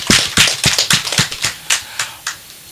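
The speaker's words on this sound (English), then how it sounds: "Let's clap the staff of UWA" An audience claps for wildlife-authority staff at the launch of a chimpanzee census, a loose, sparse patter of distinct sharp claps from a modest group, thinning out and slowing toward the end, with no talk over it.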